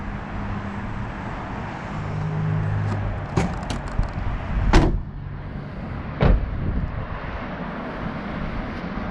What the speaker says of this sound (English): I'm going to open the hood